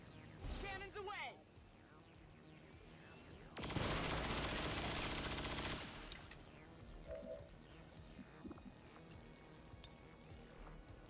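Cannon gunfire in the XCOM 2 video game: a loud, dense burst of firing lasting about two seconds, preceded by shorter sharp shots, with a voice talking over the game sounds.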